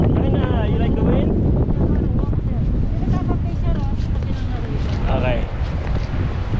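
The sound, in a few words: wind blowing at Juneau, Alaska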